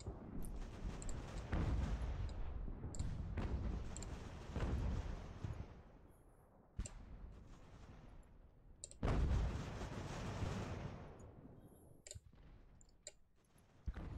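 Naval cannon fire booms across a sea battle in Ultimate Admiral Age of Sail, several heavy blasts at irregular intervals with rumbling tails and sharp clicks in between.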